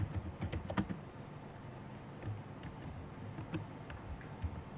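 Fingers typing an SLA policy name on a computer keyboard, with a quick burst of key clicks at first, then sparser, softer taps over a quiet background.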